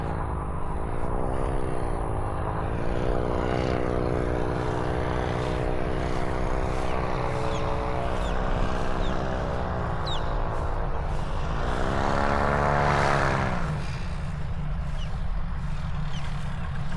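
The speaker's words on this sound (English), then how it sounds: "Doing a go around, losing a little bit more altitude." A small propeller airplane makes a go-around at an airshow, its engine droning steadily at a distance, with pitch rising and falling as it passes, then surging louder near the end.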